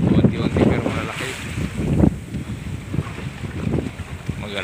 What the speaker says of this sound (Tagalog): Laki ng alon mga idol oh.